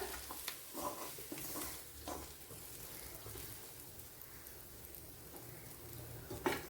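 Hot tempering is poured into a pumpkin, okra and drumstick curry, giving a soft, fairly quiet sizzle and crackle with a few sharper spits and a final louder burst.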